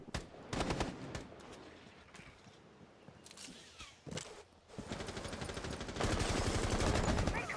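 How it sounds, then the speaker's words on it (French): Rapid bursts of gunfire in Rainbow Six Siege, mixing single shots and sustained automatic fire that grows denser and louder toward the end. "On entend les coups de feu"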